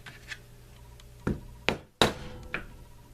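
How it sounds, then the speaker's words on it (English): Mallet strikes stamping a design into a lined leather holster: three or four sharp, hard thuds spaced irregularly about half a second apart, close and fairly loud against a quiet room. "I just give it a couple of whacks and I get a good impression in the leather."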